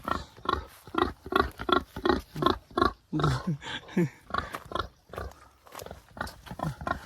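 A pig grunts and snorts in a rapid, uneven series of close, rough calls, with no talk.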